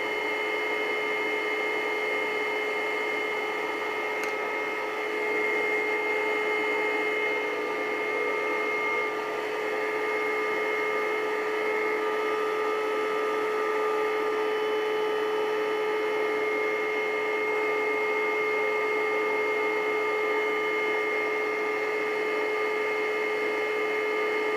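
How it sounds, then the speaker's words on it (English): A vacuum forming machine draws air steadily through heated Kydex sheet for a holster, a loud, continuous whirring hum with a fixed whine and no change in level or rhythm. "you can watch it constantly go down because the air from the vacuum is going down through it"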